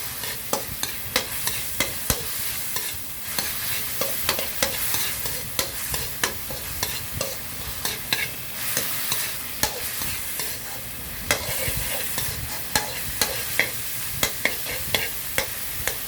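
Chili paste being stir-fried in hot oil for fried tilapia with chili sauce, a steady loud sizzle broken by repeated sharp scrapes of a spatula against the pan, close up with no talking.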